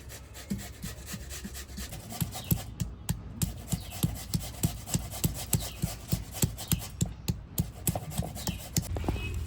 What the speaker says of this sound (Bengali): আলুটা ঘষে নিচ্ছি।